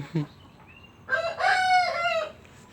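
A rooster crows loudly nearby, one full cock-a-doodle-doo after a brief cluck, against a quiet background.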